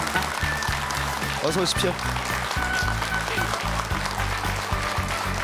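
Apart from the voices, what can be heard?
studio audience applause welcoming a guest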